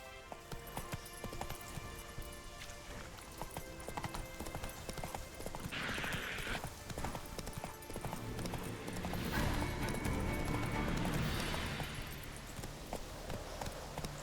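Hooves of Geralt's horse Roach in The Witcher 3 clip-clop in a steady rhythm. The sound stays fairly close and continuous, with a brief whinny and game ambience around it.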